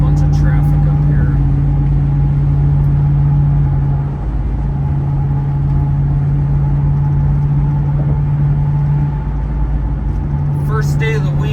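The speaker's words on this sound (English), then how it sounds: "Oh, we got a bunch of traffic up here." Road traffic heard from inside a moving car on a drive between Apple Valley and White Bear Lake, Minnesota: a steady loud engine and tire rumble with a constant low hum throughout.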